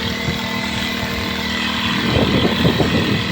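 Engine-powered crop sprayer pump on an onion farm starting up, a close, loud droning motor that grows rougher and more pulsing as it picks up, no talk.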